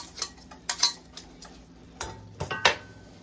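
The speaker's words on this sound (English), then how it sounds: "we're going to pitch this spaghetti in there, get it all stirred around" Spaghetti being stirred in a 17-inch cast iron pot, a utensil scraping and clinking against the iron in several irregular close strokes over a low background hum.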